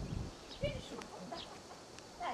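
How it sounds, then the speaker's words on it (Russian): Chickens cluck softly at a farmyard in Smolensk region, a few faint, scattered clucks and calls at low level, with some background voices. "И куры тут."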